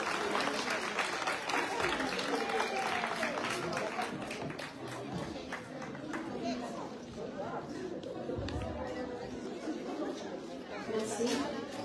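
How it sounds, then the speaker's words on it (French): An audience at a Comorian artisan fair applauds a guest speaker, steady moderate clapping from a crowd mixed with chatter and murmuring voices, heard at a distance and fairly faint throughout. "je vous demande de l'applaudir chaleureusement"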